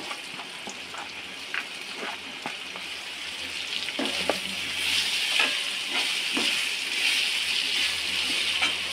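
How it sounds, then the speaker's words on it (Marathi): Chopped tinda is added to homemade masala in a pan and sizzles steadily, with a bright frying hiss and scattered scraping taps from stirring, with no talking. "आणि आपण हे जे ढेमसे कापून घेतले आहेत ते टाकायचे।"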